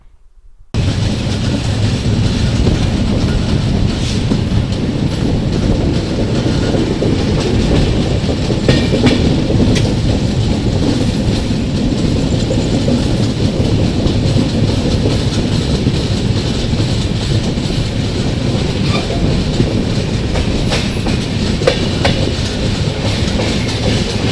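A passenger train, the Saurashtra Janta Express from Bandra Terminus to Veraval, departs a station and rolls along with a loud, continuous rumble and faint clickety-clack of wheels throughout. No voices are heard.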